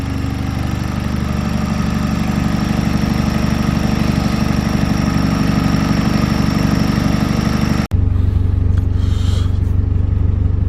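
A heavily modified turbocharged 2.0 Theta inline-four in a Genesis Coupe idles loud and steady at close range, the tone shifting abruptly near the end to a deeper, heavier rumble.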